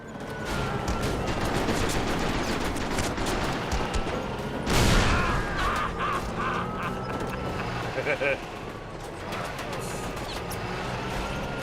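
Gunfire from a firefight in Mercenaries 2 rattles in dense, rapid bursts over a loud, constant battle din, with a heavier blast near the middle.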